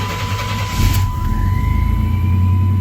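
A 1992 Chevrolet S-10 pickup with a 4.3 engine cranks and fires up, settling into a steady low rumbling idle with a faint whine over it, close and loud, with no talking.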